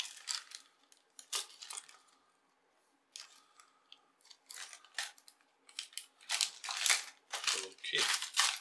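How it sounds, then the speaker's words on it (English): Board game pieces being zipped into plastic bags during an unboxing: repeated rustling, crinkling plastic and short zip strokes, close and fairly quiet, in bursts with brief pauses, with a voice speaking in places. "let's just zip all this up"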